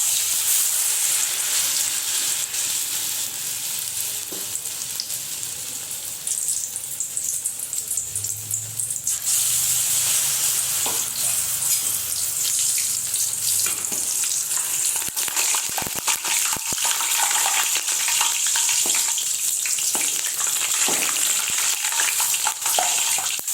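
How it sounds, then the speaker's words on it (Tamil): Banana stem bajji, slices dipped in batter, sizzles in hot oil with a constant bright crackle and hiss close by, and occasional soft clinks and scrapes join in as the pieces are moved around. "இப்போ நம்ம வாழைத்தண்டு பஜ்ஜி போடலாம்."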